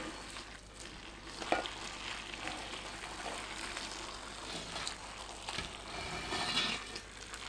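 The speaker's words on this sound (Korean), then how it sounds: "양념이 끓으면 뜨거울 때 바로 열무 위에 부어줍니다." Boiling-hot seasoning liquid poured over tender young radish greens (yeolmu) gives a steady, moderately loud hiss and sizzle with a brief splashy burst partway through. No voices.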